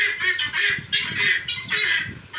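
Hens on a small poultry farm, several loud close squawks and clucks in quick bursts, about four clustered calls repeating through the short stretch with no talk.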